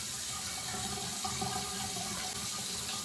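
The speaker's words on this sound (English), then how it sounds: "I keep my water running just so you know that it stays warm" A bathroom tap runs continuously during shaving, a steady close gush of water into the sink, fairly even in level with no talking.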